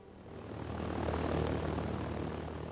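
PBY Catalina patrol plane in flight, its propeller engines droning steadily as the sound swells and then holds at a loud, continuous level.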